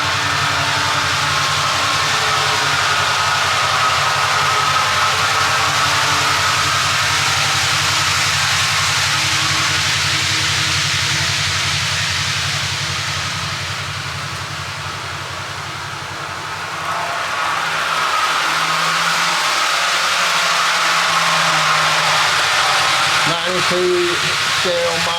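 An MTH or BLI model train locomotive runs laps on a layout track, producing a continuous low motor whir and track rumble that dips briefly as it passes farther away, then swells again; someone speaks quietly over it.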